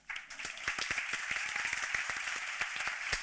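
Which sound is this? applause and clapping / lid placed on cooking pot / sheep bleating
applause and clapping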